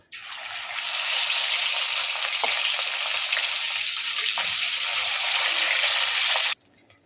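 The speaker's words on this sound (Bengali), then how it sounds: "ওই তেলে মাছগুলো ভেজে নেব" Rohu fish pieces fry in hot oil with a loud, dense, continuous sizzle that holds steady for several seconds, then cuts off abruptly near the end; no voices.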